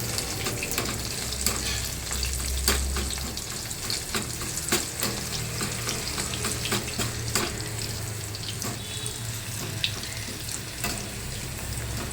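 Garlic frying in hot oil for a homemade Kerala mixture snack, a steady close sizzle with scattered crackles and spoon stirring throughout, no talking.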